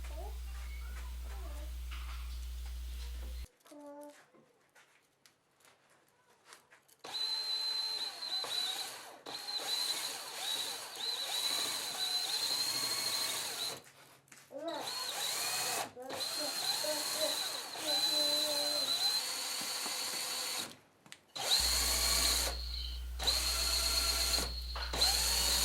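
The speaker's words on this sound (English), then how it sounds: "I'm going to use that to sand the inside of the ring" A power drill spins a dowel wrapped in sandpaper to sand the inside of a small wooden ring made from a wood shaving, a steady high whine running for long stretches with brief stops between runs.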